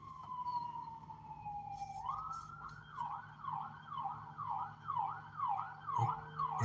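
An ambulance siren sweeps past in downtown Binghamton, starting as a long falling wail and then switching to a rapid rising-and-falling yelp, fairly distant over a low traffic rumble.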